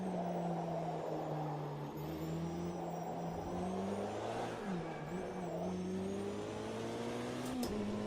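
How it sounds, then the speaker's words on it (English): A steady, droning race car engine hum in the racing game Automobilista 2 that shifts pitch as it accelerates and eases off, continuous and fairly even in loudness. "The engine note on this car is nice, how it sounds like it's behind you."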